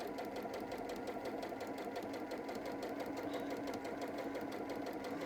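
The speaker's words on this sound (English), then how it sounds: "we will just carefully stitch along here" A sewing machine stitching fabric with a fast, steady mechanical whir and rhythmic needle chatter, running evenly throughout at moderate loudness.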